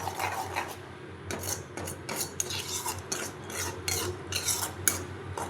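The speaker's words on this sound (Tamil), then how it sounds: "நல்லா கலந்து விடணும்." Garlic pickle with chilli powder and salt is stirred in an oily pan, a series of rhythmic scraping and rasping strokes of a utensil against the pan, close and fairly loud with no talking.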